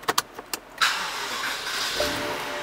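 An xDrive 5.0 car with push-button ignition: a few sharp clicks, then the engine catches with a broad whoosh and settles into a steady, moderately loud idle heard from inside the cabin.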